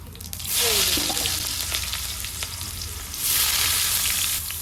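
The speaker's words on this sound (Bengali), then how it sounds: "পেঁয়াজটা লাল লাল করে ভেজে নেব আগে।" Thinly sliced onions drop into hot oil with whole garam masala, bay leaf and cumin, bursting into a loud hissing sizzle that settles, then swells again as they are stirred, with no talking.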